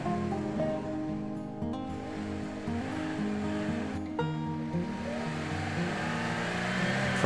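A manual transmission car accelerating in fifth gear from about 60 to 75 miles per hour, its engine a steady, loud drone with continuous road and wind rush throughout.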